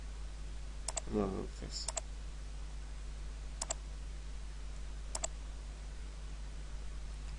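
Several sharp mouse clicks from a computer mouse while editing a WordPress website, spaced apart across a quiet room with a steady low hum, and one brief spoken word near the start.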